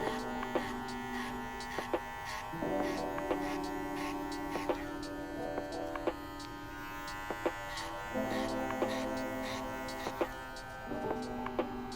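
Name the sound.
hair clippers with number 2 guard cutting a fade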